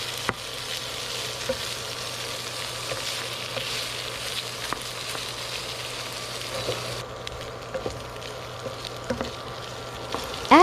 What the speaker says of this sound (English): Pan fry for a bit.